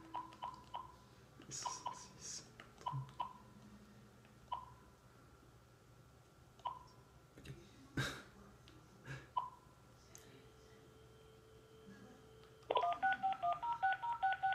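A telephone number is dialed with a series of DTMF keypad tones, single beeps spaced irregularly at first, then a quick run of tones near the end, heard close with faint background noise.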